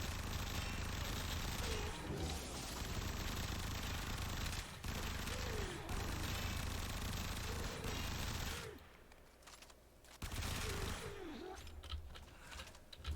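The Supra Vandal in Warframe fires in long, rapid, dense bursts, its loud automatic stream broken by a few short pauses, with whooshing game effects and a voice talking underneath.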